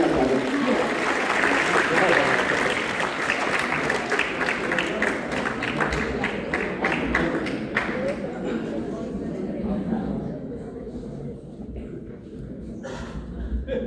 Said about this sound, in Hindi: एक बार जरा तालियां बजा के जगदीश खटाना का स्वागत कीजिए